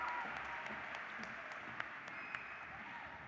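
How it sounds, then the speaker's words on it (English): A large convention crowd at a state FFA session applauds with steady, distant clapping, faint and continuous throughout, with a couple of sharper claps standing out near the end. "Let's get one more round of applause for your National Southern Region Vice President, Ms. Jordan Stowe, as she exits the stage."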